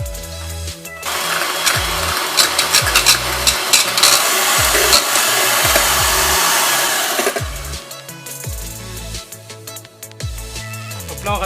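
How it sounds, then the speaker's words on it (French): An electric mixer whips egg whites for a savoury appetizer batter, a loud steady whirring drone lasting about six seconds before cutting out, over continuous background music. "On va monter les blancs."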